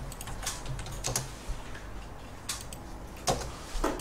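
Keys on a computer keyboard are pressed while drawing in AutoCAD, with several separate clicks spaced irregularly, some sharp and close, and no other sound between them.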